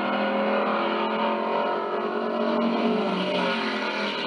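A 1967 Camaro with a 355 engine drag racing gives a continuous, loud engine roar that stays steady and dense throughout, with no talk over it.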